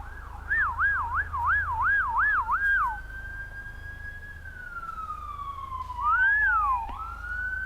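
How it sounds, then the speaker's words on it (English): A wailing emergency siren rapidly warbling up and down, then shifting to a slower rising and falling wail, fairly loud and passing nearby. "Ambulance."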